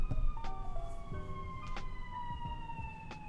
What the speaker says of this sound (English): and of course, siren.